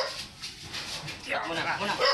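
Siberian husky barking and whimpering at a pet grooming shoot service in Urdaneta City, Pangasinan, with short yips and whines under background human chatter, growing louder toward the end.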